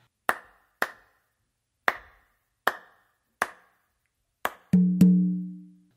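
Five or six sharp clave-like clicks mark the beat, then two open tumba strokes land on the two side of the clave, their deep pitched tone ringing out and decaying.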